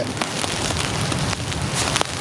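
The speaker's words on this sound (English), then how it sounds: "In summer, when it rains, it floods down." Steady rain falls during a thunderstorm at a campsite in Ontario, a dense close patter with scattered sharper drop hits, no voices.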